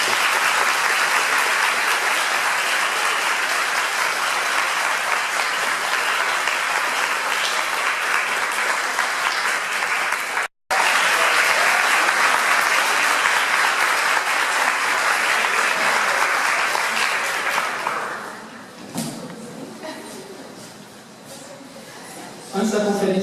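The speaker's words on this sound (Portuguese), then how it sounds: "eu solicito a vocês um grande aplauso de agradecimento por estarmos todos reunidos aqui hoje" An audience gives a long round of thankful applause at an inaugural class of a medical school course in Ouro Preto. Dense, sustained clapping from a full room continues for about eighteen seconds, then thins to scattered claps and murmuring.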